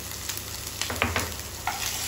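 Masala with turmeric stirred in a frying pan, a soft continuous sizzle broken by a few quick scraping strokes of the spoon near the middle, close and moderately quiet, with no voices.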